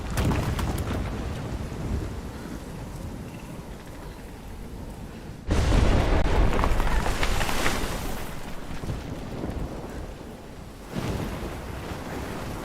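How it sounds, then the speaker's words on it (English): Heavy rain and rumbling thunder from a storm in Life is Strange Remastered, a steady downpour broken by two loud surges of thunder, with no talk. "I've never seen a storm like this in Oregon."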